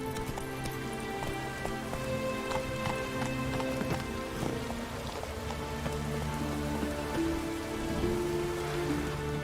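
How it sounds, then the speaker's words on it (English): Light drizzling rain in the video game The Witcher 3 makes a steady, soft patter that holds through the whole stretch, layered with sustained musical tones and occasional faint clopping. "But it keeps to a drizzle."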